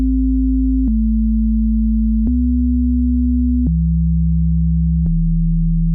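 Clean, undistorted chords from an Operator synth play as pure sustained sine-like tones, five held chords changing in steady succession with a faint click at each change, loud and alone without modulation.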